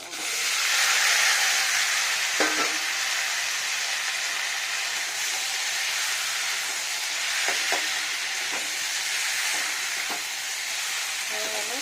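Cabbage curry sizzling in hot oil in a pan, a continuous broad hiss with a few faint clicks from stirring, no talking.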